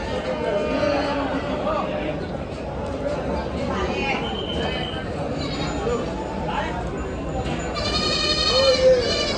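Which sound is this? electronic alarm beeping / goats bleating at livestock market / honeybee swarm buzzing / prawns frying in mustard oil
goats bleating at livestock market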